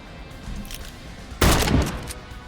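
A single loud shotgun blast in the tactical game Cyber Knights Flashpoint, sharp and close, ringing out briefly after quiet ambience.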